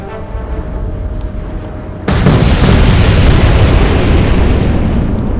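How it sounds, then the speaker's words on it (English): Torpedo hits explode against a warship in the naval strategy game Atlantic Fleet, a sudden loud boom erupting into a sustained, heavy rumbling blast that fills the rest of the moment. "She took 4 torpedo hits, but nevertheless, she's sunk."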